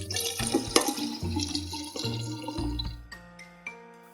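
Isopropyl alcohol pours into a measuring container, a close, gurgling splash whose pitch rises as the vessel fills, ending in a few drips and a light clink.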